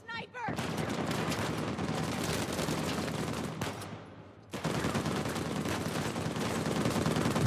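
Dense, sustained gunfire rattles through a firefight in the video game Uncharted 4: A Thief's End, loud and continuous, breaking off briefly for about a second before the shooting resumes.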